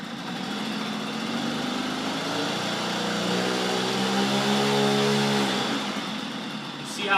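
A Puch moped engine runs steadily, then revs up and falls back, its droning pitch sweeping upward and back down, heard close without talk.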